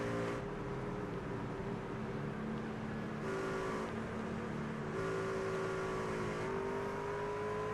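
A racing truck engine in a Talladega Superspeedway truck-series racing video game drones steadily with no speech, its pitch gently stepping and sliding as it runs at speed.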